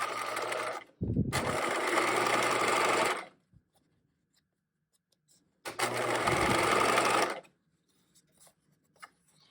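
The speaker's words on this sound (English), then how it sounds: "I am going to backstitch this time because this is the for realsies stitch" A sewing machine backstitches a side pocket on a caddy bag in two close, steady bursts of whirring, the first briefly broken near its start, each ending in silence.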